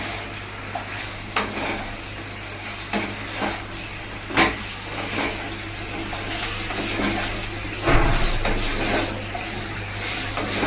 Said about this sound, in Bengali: এটাকে খানিকক্ষণ একটু টস করো, যাতে পুরো ওই যে সসটাই মানে গায়ে লেগে থাকে আর কি